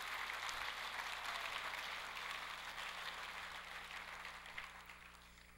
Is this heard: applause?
yes